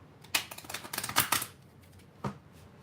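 A quick flurry of crisp riffles and taps from stiff Lenormand cards, then a pause and one more sharp snap near the end.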